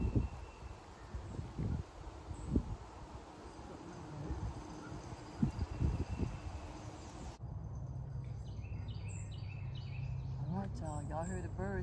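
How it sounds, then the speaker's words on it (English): Birds singing outdoors by a fishing spot, repeated bright whistled phrases and chirps that become clearer in the second half, with crickets and rustling underneath and quiet speech and handling noises earlier. "Y'all heard the birds singing and nothing else"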